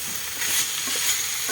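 Mixed vegetables stir-fried in a hot pan, a steady close sizzle and hiss with soft tossing and stirring sounds, with no voices.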